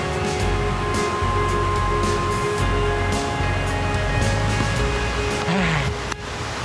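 Water rushes steadily at Kuang Si Waterfall near Luang Prabang, Laos, a loud broad roar that runs without a break. A brief faint voice rises near the end.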